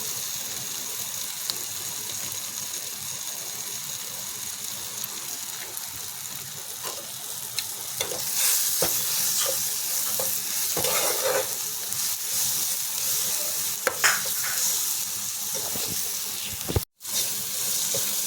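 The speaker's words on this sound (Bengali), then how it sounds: "হালকা একটু নাড়াচাড়া করে নেব" Spices including chilli powder sizzle and fry in oil in a pan for an egg and eggplant curry, a steady close hiss broken by soft scraping stirs that grow slightly louder midway.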